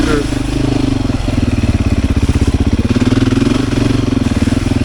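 Beta 500 RS motorcycle engine chugging loud and close while riding a sandy trail with big whoops, a steady pulsing throb that builds slightly, with a rider talking over it.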